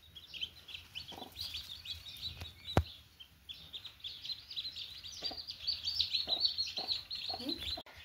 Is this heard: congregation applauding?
no